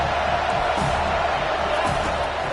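A steady roar from a football stadium crowd cheering as the home defense holds the opponent deep in their own end, loud and continuous.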